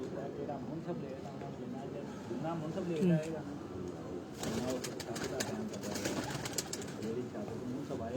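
Pigeons coo in low, throaty warbles close by while people talk over them at a pigeon-keeping gathering; a burst of flapping or rustling comes midway.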